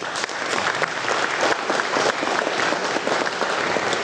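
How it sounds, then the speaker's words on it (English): Steady, dense applause from a crowd at an indoor celebration lunch, loud and sustained throughout with no voices standing out. "giving a big round of applause to welcome all of you"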